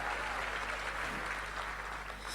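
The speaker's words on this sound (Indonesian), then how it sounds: "Berikan tepuk tangan yang meriah buat Tuhan" A church congregation applauds at an anniversary worship service, a dense, steady wash of clapping that holds at an even level for the whole stretch without any speech over it.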